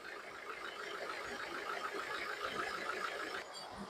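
A diesel car engine idling, either a Tata Indica Vista or a Nissan Micra, with a steady, even rumble that holds throughout and drops slightly near the end, with no talk.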